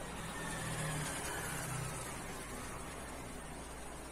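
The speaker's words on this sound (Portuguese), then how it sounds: "aparece uns barulhos de veículo, de moto, carro, no áudio aí" Vehicles, cars and motorbikes, go by on a distant road, a faint steady traffic hum with a slight engine swell early on, no voices.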